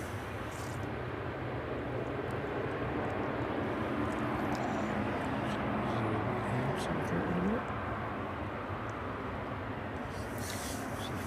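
An aircraft approaches East Midlands Airport on a foggy evening, a faint, steady distant roar of engine noise holding evenly for the whole stretch, with no voices heard.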